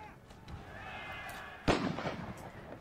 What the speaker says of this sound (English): we are going to have to tell our cannons to stop firing now